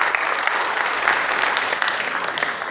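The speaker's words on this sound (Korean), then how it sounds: "박수 한번 쳐드리세요." Sustained, dense applause from a church congregation at a Korean Christian leaders' Liberation Day prayer service, steady and fairly loud throughout with no clear voices over it.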